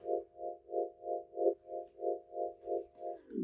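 A soft synth tone pulses with a slow Gross Beat tremolo, swelling and fading about nine times in an even rhythm before sliding down in pitch at the end, faint and alone.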